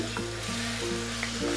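Chickpeas sizzle steadily in a pan as homemade goda masala is stirred through them for chole, a continuous close frying hiss with faint stirring scrapes and no voices.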